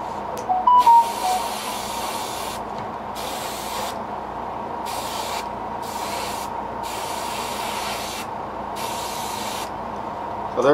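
A spray gun lays a yellow ochre paint coat onto a cicada-style fishing lure in six or so short, close bursts of steady hiss separated by brief pauses, over a constant background hum.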